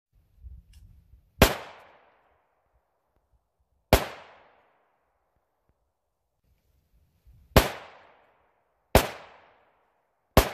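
Four sharp rifle shots fired with .350 Legend ammunition ring out at uneven intervals outdoors, each loud crack followed by a short decaying echo, with faint rustling between.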